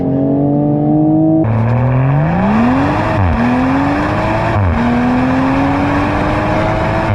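A 2021 Toyota GR Supra 3.0 with a tuned engine launches hard on launch control, its engine note climbing steadily through several gear changes in one continuous, loud run with no talk over it.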